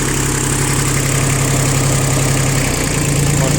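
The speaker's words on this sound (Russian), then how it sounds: "Работает трактор очень ровно." An Iseki TU 1700 tractor idles steadily and evenly, a close, continuous mid-to-low engine hum with no talk.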